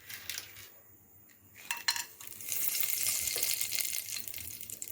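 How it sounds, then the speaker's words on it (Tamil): Cinnamon and bay leaf drop into hot oil for a hotel-style peas and potato kurma, starting with a few clinks of a pan before a steady, close sizzle of frying builds and holds. "எண்ணெய் காஞ்சதுக்கப்புறம் இந்த பட்டை, பிரியாணி இலை அதெல்லாம் போட்டுக்கலாம்"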